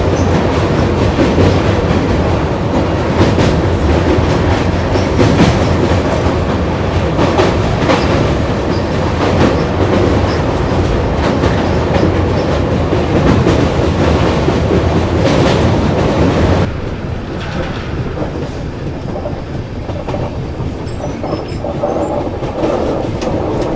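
Vibhuti Express 13047 pulling into Prayagraj Rambagh railway station, a steady loud rumble of carriages with clattering wheels over the rails, easing to a quieter roll near the end.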